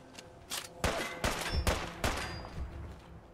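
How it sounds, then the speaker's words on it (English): Heavy gunfire from a big gun in a video game comes in about six sharp, booming bursts spaced roughly half a second apart, moderately loud with no voices over it. "Oh, he's using his big gun."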